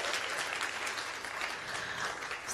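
An evening storytelling audience in Memphis, including a color-coordinated cheering section, applauds for the next storyteller, a dense, steady wash of many hands clapping close up, loud and sustained throughout with faint cheering mixed in.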